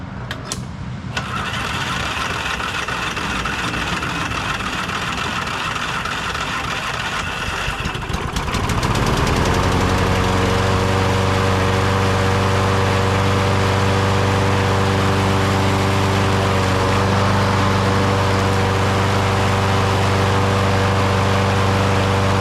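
A Craftsman YTS 3000 lawn tractor engine with a weak starter and battery cranks laboriously for several seconds, then catches and settles into a loud, steady idle that drones on to the end.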